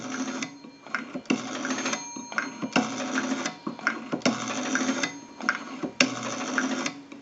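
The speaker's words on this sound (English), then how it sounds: "We have a nice smooth return on our rotary dial now." Rotary dial on a JYDSK wooden wall crank telephone, repeated bursts of buzzing mechanical whirr as the dial spins back, several close, evenly spaced returns separated by short gaps.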